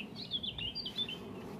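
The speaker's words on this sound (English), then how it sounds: "At least two black caps singing." Blackcaps singing in a city park in mid-May, several quick warbling phrases layered over a steady low rumble of distant traffic or aircraft, with no voices.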